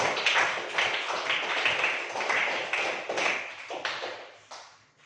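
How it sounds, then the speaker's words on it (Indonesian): A classroom of students claps for a classmate who answered a question, a lively burst of many hands that holds steady, then thins and fades out toward the end. "Tepuk tangan untuk Rasid"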